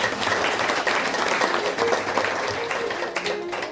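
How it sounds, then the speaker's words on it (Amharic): A church congregation claps in praise during a worship service, a dense, steady wash of applause lasting the whole stretch with voices mixed faintly underneath. "አጨብጭቡ ለጌታ"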